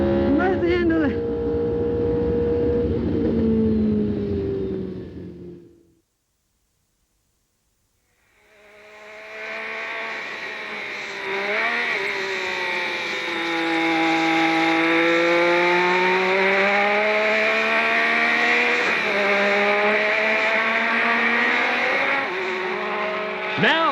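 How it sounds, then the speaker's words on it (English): Onboard engine of a Formula One Lotus at Brands Hatch, a loud rising and falling whine through gear changes and braking, cutting out briefly before roaring back, with a voice talking over it. "Opposite lock into third gear, into fourth gear, going towards the bridge, braking hard, into third gear."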